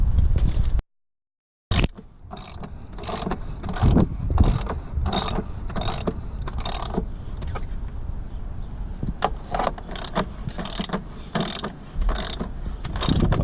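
Rapid ratcheting clicks from a hand tool tightening a fitting onto pool equipment, a loud close run of sharp regular strokes after a brief silent pause, with short gaps between bursts.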